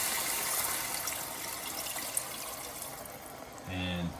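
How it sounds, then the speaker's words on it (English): Water pours into a pot of browned beef shoulder as a soft, steady liquid hiss, fading slightly before a brief sizzling clatter near the end. "So now, let's add some water."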